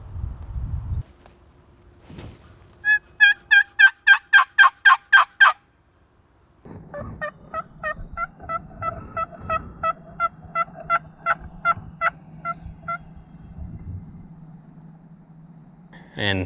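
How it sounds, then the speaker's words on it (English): Wild turkey hens call from a field, with a rapid series of loud, close yelps followed by a longer, softer run of clucks and yelps over low rustling. "The hens are calling back and forth."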